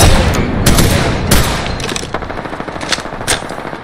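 Rapid automatic gunfire from a shooter video game, loud bursts and single shots close up, dense at first then thinning into spaced cracks.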